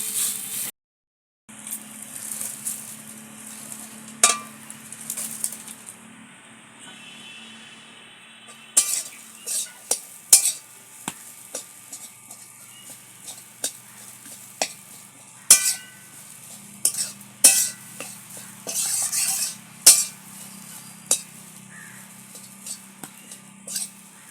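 Ground rice paste frying in ghee is stirred in a pan for rice sandesh, giving intermittent scrapes, soft sizzling and sharp utensil clinks at an uneven rhythm, close by with no talking.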